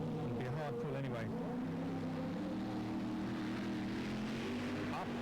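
A German pulling tractor called Blue Magic roars at a 1997 European tractor pulling event in Sottrum, Germany, a loud sustained engine drone with shifting pitch over the full stretch, with an announcer talking over it.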